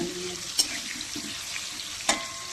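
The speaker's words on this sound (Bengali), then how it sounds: "সুন্দর করে, লাল করে আলুটাকে ভেজে নেব।" Potatoes fry in hot oil with a steady close sizzle, two sharp spatula clicks punctuating the bubbling hiss.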